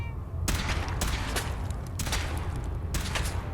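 Bursts of rapid gunfire from a weapon in Fallout 4, loud and close, in several rattling volleys with short gaps between them.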